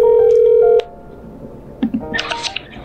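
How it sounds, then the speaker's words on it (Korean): A telephone call being placed at night: a loud steady dial tone, then a short tone sequence, a pause and the start of a muffled ring with faint background clatter. "이 친구한테는 지금 전화를 한번 걸어보도록 하겠습니다"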